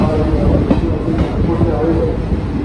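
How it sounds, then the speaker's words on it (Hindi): A Tanakpur–Mathura special fare passenger train (05062) pulling into platform 2 at Mathura Cantonment station: a loud, continuous rolling rumble with rhythmic wheel clatter, heard up close throughout. "छावनी भगवान श्री कृष्ण की जन्मभूमि अराइविंग करती हुई 2 नंबर प्लेटफॉर्म पर"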